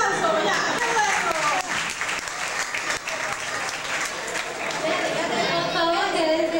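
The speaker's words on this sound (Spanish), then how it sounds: "¡Un aplauso!" Applause from a crowd at a church contest, lively clapping mixed with cheering and chatter, with voices heard over it throughout.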